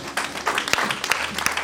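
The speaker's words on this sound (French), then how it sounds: "On acclame le Seigneur." A church congregation claps together in a short, dense burst of applause, steady and fairly close, with a few sharper individual claps standing out.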